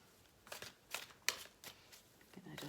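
Oracle cards get a quick, brief shuffle: several crisp riffling bursts spaced about half a second apart, soft and close, with no speech.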